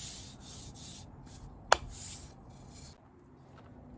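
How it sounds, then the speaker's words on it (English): Quick, soft rasping strokes of sanding the sides and edges of wooden bed posts, close and rhythmic, with one sharp click midway before the rubbing fades out. "gave the sides a little sanding to make it smooth"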